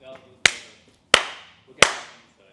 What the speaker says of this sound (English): We'll just do the clap.